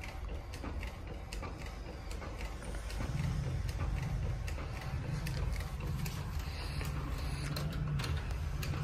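Modified Epson ET 8550 DTF printer printing onto a roll, a run of mechanical clicking and ratcheting ticks joined by a steady low motor whir partway through, close and fairly quiet.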